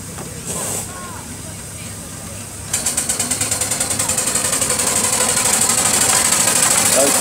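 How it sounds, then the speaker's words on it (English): A 4-inch scale Foster agricultural steam traction engine idles softly, then starts chuffing in a quick, steady rhythm that builds slightly, close and fairly loud, at a steam rally. "4-inch scale Foster agricultural engine."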